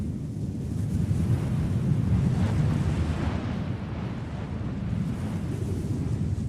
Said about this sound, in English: if you stand by the cliff's edge, you can hear the sound of waves